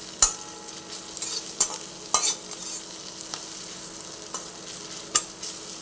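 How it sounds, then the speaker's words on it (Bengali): Kashmiri chili powder and chopped green chilies frying in a pan for chop, a light sizzle broken by sharp clinks of a spoon against the pan. "সব দিয়ে পরে অল্প ভেজে নিচ্ছি।"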